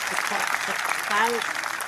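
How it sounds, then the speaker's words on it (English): A crowd at a golf tournament claps steadily in the background while a commentator talks over it throughout. "the crowd clapping does give a bit of a hint"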